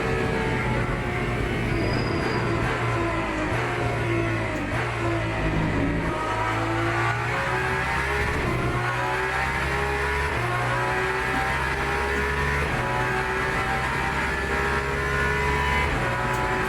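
Race cars roar through a racing video game in the Valkyrie and AMG, engines revving and shifting loudly and continuously, with layered overlapping engine tones and no talking.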